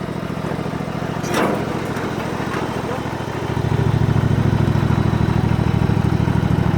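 A John Deere tractor engine runs steadily with a low idling drone, then grows louder and fuller about halfway through as it revs up, carrying on continuously at close range.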